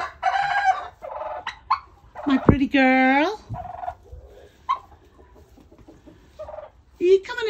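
Roosters in a backyard coop cluck and let out one full, loud crow, with a person speaking softly between the calls.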